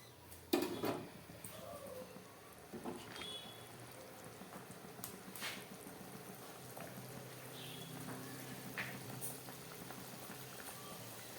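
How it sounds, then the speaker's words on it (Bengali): Fish curry broth boils in a cooking pot, a faint, steady bubbling simmer with a few soft pops and light clinks, heard close and alone without talk. "মাছের ঝোলটা ফুটে উঠেছে"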